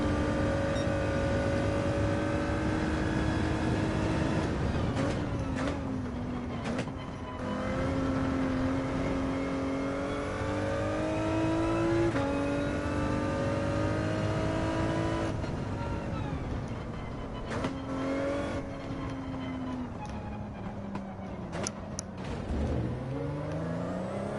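Race car engines in a Gran Turismo 7 race, a steady high engine whine climbing and dropping through gear changes with other cars passing close by, loud and continuous throughout.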